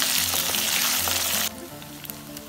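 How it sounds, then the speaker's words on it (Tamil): Small shallots and garlic cloves sautéing in hot oil for a Tamil kuzhambu; a loud, close, steady sizzle that cuts off sharply halfway through, leaving faint crackles and light stirring. "20 to 25 சின்ன வெங்காயம் சேர்த்து வதக்கிக்கலாம். இது கூடயே 7 to பூண்டு பல் சேர்த்து வதக்கி விட்டுக்கலாம்."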